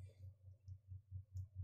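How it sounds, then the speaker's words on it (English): A zipper played as percussion in a tap dance cover, a fast steady run of rhythmic zips and clicks, about six even pulses with a few brighter scrapes, quiet and alone. "I bet you didn't know a zipper was an instrument."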